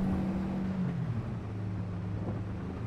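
An old Ford F100 truck in Farming Simulator 22, its engine droning low and steady under strain while towing a heavy load, a constant rumble with a faint tonal hum that holds without breaks.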